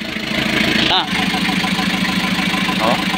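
A freshly overhauled Kia KC2700 truck engine runs at a steady idle, loud and close, with a continuous mechanical rumble and voices briefly heard over it.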